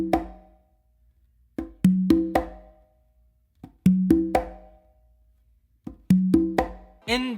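Hand drumming on a tumba and conga playing a tumbao exercise: repeating phrases of sharp open tones and slaps with resonant low ringing, in groups of strikes separated by short pauses, close and clear with no talking.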